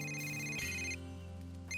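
Mobile phone ringtone chimes at a camping site, a sustained electronic melody of bright tones shifting pitch over a couple of seconds, fairly quiet and with no one talking over it.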